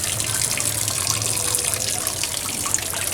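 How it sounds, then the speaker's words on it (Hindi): Water pours steadily from a pipe on an air cooler after its pump was replaced, a continuous close splashing trickle like a running tap, with no talk over it. "इस पाइप से भी अब पानी निकलना शुरू हो गया"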